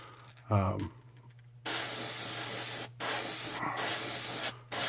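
Steady airbrush hiss of air blowing out, used for painting a shad crankbait fishing lure, starting after a brief voice and pausing twice briefly, over a constant low electrical hum.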